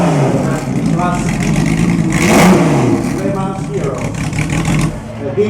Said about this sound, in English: Well, you got the Jaguar running. Listen to that. Sounds a lot better than it did yesterday.